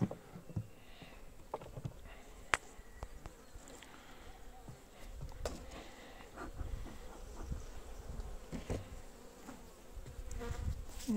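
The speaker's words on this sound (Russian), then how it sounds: "Шастают пчелы, шукают корма" Honey bees buzz around hive frames set aside during spring feeding. Their soft, wavering drone comes from nearby and is dotted with scattered light taps and clicks, and no one speaks.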